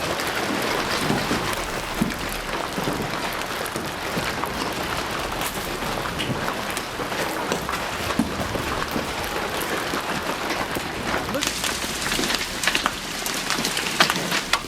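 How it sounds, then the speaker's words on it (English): Large hailstones pound onto a river in Queensland during extreme weather, a dense, continuous hiss of impacts on the water that sounds like heavy rain, steady and moderately loud throughout with no voices. "Large hailstones pounded down onto a river in Queensland"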